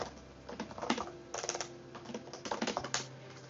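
Code is tapped out on a computer keyboard in quick, irregular bursts of clicking keys, close and moderately quiet, with no voice.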